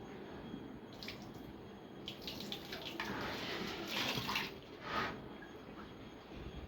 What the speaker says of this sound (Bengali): যেহেতু বাজার থেকে নিয়ে আসেন ডাইরেক্ট জলে ভিজিয়ে তারপরে সেটা ব্যবহার করি